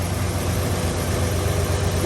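A 1969 Lincoln Continental Mark III's 460 V8 idles steadily with a constant low rumble, close and even throughout, with no rattle.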